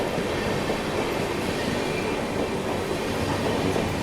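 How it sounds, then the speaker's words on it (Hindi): A North East Express train runs steadily along the track, a continuous rumbling roar with a faint rhythmic rail clatter running the whole way through, no voices. "north east express"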